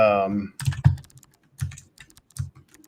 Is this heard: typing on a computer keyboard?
yes